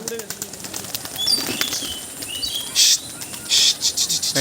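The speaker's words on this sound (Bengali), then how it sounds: "সব পায়রা দেখুন উড়ে গেছে" Quick bursts of wings flapping as pigeons take off, with faint chirps and insect buzz in the background.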